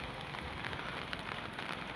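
Steady rain hisses down across a construction work site, a dense even wash of drops with faint crackles, continuous and moderately distant, with no voices.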